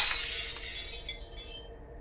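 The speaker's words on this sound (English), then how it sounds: "a loud crash from somewhere in the cabin, breaking glass" Glass shatters in a loud crash, with bright splintering fragments tinkling and fading away over about a second and a half, heard alone without voices.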